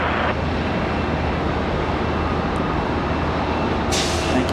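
Airliner taking off from a runway at Charlotte Douglas airport: a steady, broad jet engine roar holds throughout with a low rumble, at moderate distance and without talk.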